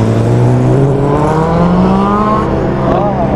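A loud Bajaj Dominar motorcycle engine revs and rises in pitch, droning steadily with harmonic whine as it climbs, close by and continuous throughout.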